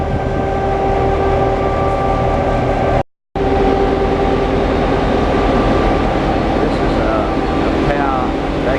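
The Tiltlander passenger tilt train on the Brisbane–Rockhampton line rumbles steadily up close, a broad continuous roar with a faint high whine, briefly cutting out before resuming at the same level.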